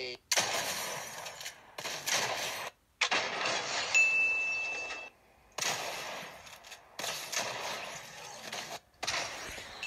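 Gold Heavy Shotgun and Gold Striker Pump shotgun firing in Fortnite, loud repeated bursts of blasts separated by short silent gaps, with a voice talking over parts of it.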